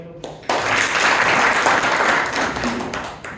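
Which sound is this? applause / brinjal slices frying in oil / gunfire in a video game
applause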